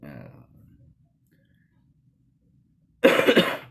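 A single harsh cough near the end, loud and close, after a low murmur and a stretch of near silence.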